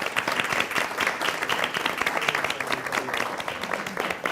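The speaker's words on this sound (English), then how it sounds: "So give them a round of applause, please." A room full of guests at a cardiovascular health roundtable gives steady, dense applause for several seconds, many hands clapping at once at even loudness without letting up.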